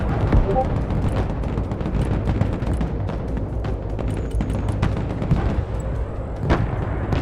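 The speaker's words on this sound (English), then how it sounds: "Artillery in combat." Artillery firing in the wartime strategy game Broken Arrow, a dense run of heavy booming shots and blasts, rapid and loud, stacked over rumbling battlefield noise with radio-style unit chatter in the background.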